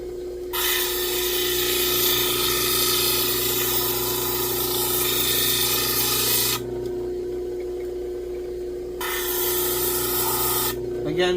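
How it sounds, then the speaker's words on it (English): Lapidary grinding machine working stones on a 400 grit wheel, a loud steady motor drone with broadband hissing grind that cuts off briefly mid-clip as the stone is lifted, then resumes. "we're going to go ahead and just carry on and get all these stones done on 400 grit"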